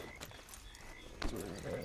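Horse hooves clip-clopping in the Red Dead Online video game, a steady run of soft hoof beats under a wash of ambient game noise, with a louder thud near the end.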